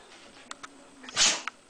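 A dog sneezes once, a short sharp burst close by on a lake trip, preceded by a couple of faint snuffles.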